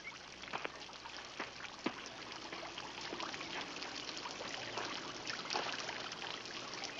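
Water trickles and pours steadily close by, a continuous soft babbling with small splashes, alone with no voices.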